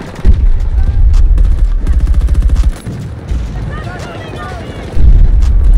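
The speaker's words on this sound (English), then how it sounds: "Nade as much as you can." Grenade explosions and heavy gunfire in the video game Battlefield 2042, loud booming blasts and rapid bursts of shots one after another, with a short quieter stretch before the final blast.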